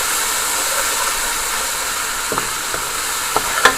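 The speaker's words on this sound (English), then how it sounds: "And so we let it fry a little into the oil." Bitter melon stuffed with shrimp frying in hot oil gives a steady, dense sizzle throughout, with a few sharp pops and crackles near the end, close and fairly loud, with no talking.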